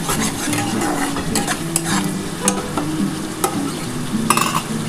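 Five eggs sizzle and fry steadily in a pan for an omelette curry, a continuous crackling hiss close by with occasional light clinks of a utensil stirring.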